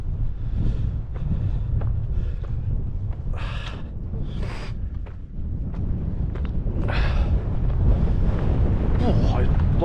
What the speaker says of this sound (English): Oh, it's blowing a bloody gale.